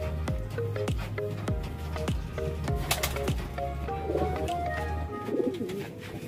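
Pigeons coo repeatedly inside a loft, with low, rolling calls from several birds close by, some overlapping, over a soft background hum.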